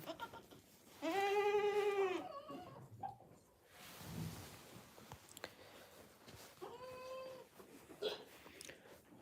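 A goat on a farm in cold winter weather bleats loudly and close by, then falls quiet for a stretch before a second, shorter bleat follows, with faint rustling between.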